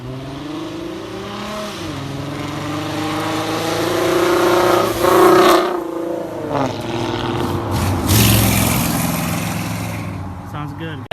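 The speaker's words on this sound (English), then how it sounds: "the exhaust tone is a lot deeper" A 2016 V6 Mustang fitted with a Corsa exhaust and shorty headers idles with a deep rumble, then revs up repeatedly with rising and falling roars close by.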